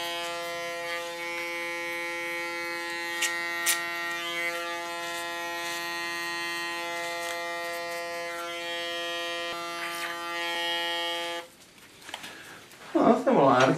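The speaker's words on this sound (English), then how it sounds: "again use my clipper as a comb" An electric hair clipper buzzes steadily and loudly up close during a short asymmetrical haircut, a sustained whine that stops near the end before brief rustling and handling noises.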